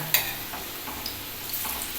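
Bread slices dipped in egg frying in a pan give a steady, soft sizzle with a few stirring or turning clicks near the start, close and moderately quiet, with no talking.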